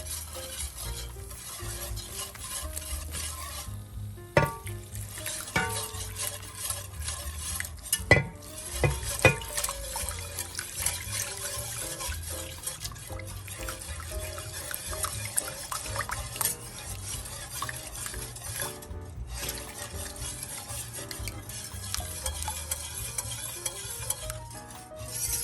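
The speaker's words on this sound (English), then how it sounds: "Because we don't want the sauce to bubble, so we have to continuously whisk." A whisk works steadily through sauce in a pan, a soft, continuous scraping and swishing with occasional light clinks against the metal, quiet and close.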